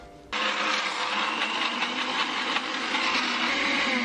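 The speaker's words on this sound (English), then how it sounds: "See, this is why I get annoyed by blenders." Kitchen blender switches on abruptly and whirs loudly and steadily, churning milk powder into cream cheese, with slight rhythmic fluctuations as the jar is jiggled.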